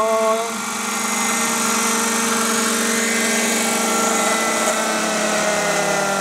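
A Bell 222 helicopter flies close by with a loud, steady rotor and turbine whine, sustained and unbroken throughout.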